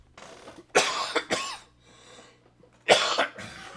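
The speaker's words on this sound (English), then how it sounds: "I do apologize again for my cough." Several harsh coughs in separate bursts, close to the microphone, with a quiet pause between them and no talking.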